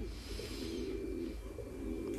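Pigeons on a pigeon farm coo softly and repeatedly, a low murmuring drone of several birds close by, with no voices over it.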